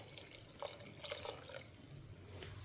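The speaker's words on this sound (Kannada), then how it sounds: "ಸ್ವಲ್ಪ ನೀರು ಸೇರಿಸ್ತೇನೆ" Water is poured into a pot of cooking moong dal seasoned with green chillies, curry leaves and salt, giving quiet trickling and dripping splashes close by.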